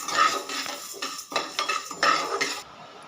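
Moong dal dry-roasting in a pan over a low flame makes loud, repeated scraping and clinking of a metal spatula against the pan, in bursts with short pauses, with no sizzle and no voices.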